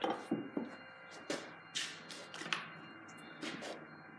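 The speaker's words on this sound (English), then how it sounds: "Using a really tiny needle file for these last little tweaks." A tiny needle file works a chef knife fitting against the ricasso, with short irregular scraping strokes and light taps, close and fairly faint, no talk.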